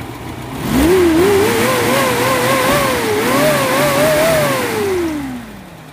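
An old 1982 Suzuki Jimny 4x4 engine with a header exhaust revs up and holds a wavering rumble, rising and dipping a few times before easing off, close and loud.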